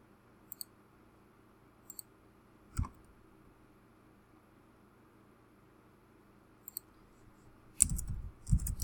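Scattered, faint mouse clicks are heard while a photo collage is edited in Pixlr. They come as isolated ticks over a soft hiss, and a louder handling thump follows near the end.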